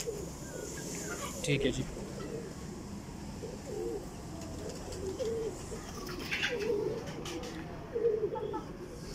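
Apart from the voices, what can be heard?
pigeons cooing, flying breed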